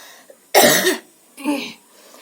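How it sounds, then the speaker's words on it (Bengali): A person coughs twice: one hard, harsh burst, then a shorter, weaker cough after a brief pause. "আমার যখন কাশি হয় কিছুতেই থামানো যায় না।"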